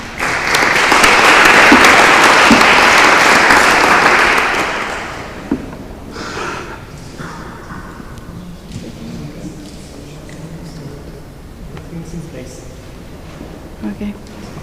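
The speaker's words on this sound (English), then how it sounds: "Please, an applause for her." Symposium audience applauds loudly for about five seconds, a dense steady wash of clapping that fades out, followed by quiet room murmur and a few scattered sounds.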